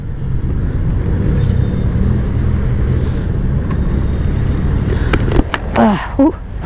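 A motorcycle fitted with an aftermarket GP-style exhaust pipe rumbles steadily and loud at close range, a continuous low engine drone with a brief rise near the end.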